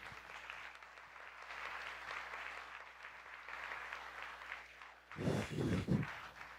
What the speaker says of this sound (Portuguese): Você pode aplaudir a Jesus, então, por favor?